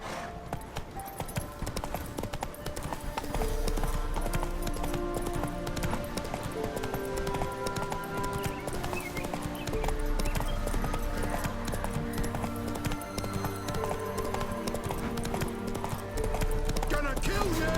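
Roach the horse galloping in The Witcher 3, rapid rhythmic hoofbeats under game music and combat noise, with voices talking over it.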